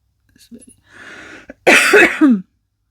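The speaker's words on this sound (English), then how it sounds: "I need to cough." A close, loud cough burst from a single person, preceded by quiet breathy sounds and a faint throat noise.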